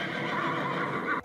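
A horse in a video game gives a loud, drawn-out neigh close by, lasting about a second before breaking off abruptly.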